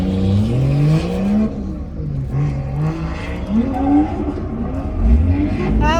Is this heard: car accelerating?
yes